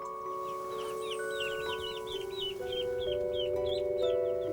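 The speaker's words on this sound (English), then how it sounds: "We've got a nice little clutch of both chickens and ducks." Hens clucking in a Victorian farmyard where chickens and ducks are kept, a run of short, close calls repeating over a steady tonal background.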